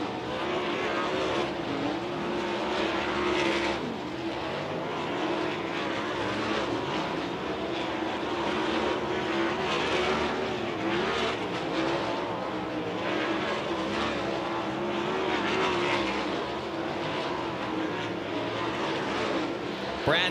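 410 sprint cars running hot laps on a dirt speedway, engines roaring steadily at high revs as cars pass, a loud sustained drone with rising and falling swells, and no talking.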